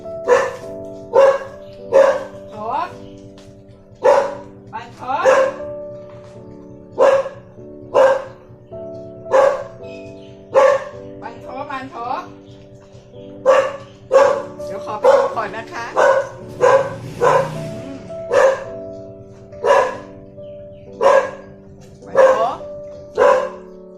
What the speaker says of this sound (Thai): โยบาเห่าค่ะ